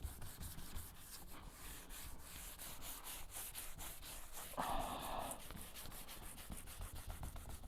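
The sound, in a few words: sanding car paint with 800 grit sandpaper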